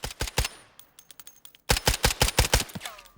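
A .45 ACP weapon in the Delta Force shooter fires in fast automatic bursts: a short string of sharp shots, a brief pause with a few scattered rounds, then a longer rapid volley, loud and close.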